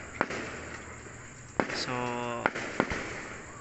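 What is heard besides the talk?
fireworks exploding at Santa Catalina fiesta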